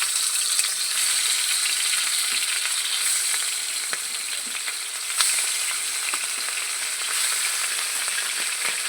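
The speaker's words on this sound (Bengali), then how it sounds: "কড়াইয়ে তেল বসিয়ে দিয়েছি, তেলটা আমার গরম হয়েছে। রুই মাছগুলো আমি ভেজে নেব।" Pieces of rohu fish fry in hot oil in a pan, giving a steady bright sizzle with small crackles and pops that continues evenly for several seconds, with no talking.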